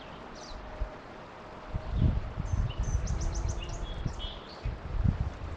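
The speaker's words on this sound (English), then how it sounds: "I think it's just a bird." A bird calls with a few high, quick chirps in the woods, over low rustling and shuffling nearby.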